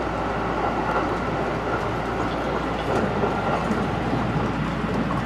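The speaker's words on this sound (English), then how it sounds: "I think that might have been the Shinkansen" A Shinkansen bullet train rushes past near Kyoto Station, heard from beside a train car as a loud, continuous rumbling roar with faint rhythmic rail clatter that holds steady throughout.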